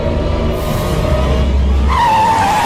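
A car accelerates hard with a loud, sustained engine roar and tire squeal as it skids away, in a chase scene from a Tamil action film, with a rising whine toward the end and no talk.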